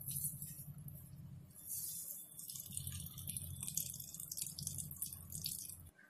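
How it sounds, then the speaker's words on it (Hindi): Water runs and drips steadily from a cloth bundle of squeezed grated potato, a soft continuous trickling with a faint low hum beneath it throughout. "इसको अच्छे से दबाते हुए इसका पानी निकाल लेंगे। तो देखिए काफ़ी सारा पानी निकल रहा है"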